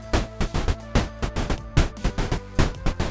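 Layered percussive hits in an interlocking pattern, two pulses set against three, repeating evenly at close range with no voices.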